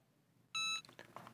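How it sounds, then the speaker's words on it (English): A heat press timer signals the end of a 60-second press at 400 degrees with a single sharp electronic beep, followed by faint handling noises. "when the timer is done, it will alert us."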